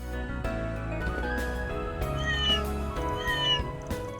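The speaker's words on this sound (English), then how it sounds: "There's the top cat of Marche." A cat meows a couple of times in the video game Trails Beyond the Horizon, the calls rising clearly over steady background music.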